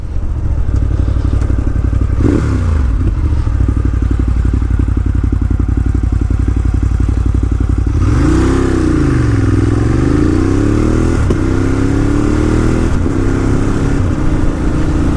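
A 2018 Ducati Monster 1200S ridden in town, its loud engine droning close up, then revving as it climbs through quick-shifted gears with rising and falling pitch sweeps and a short shift break.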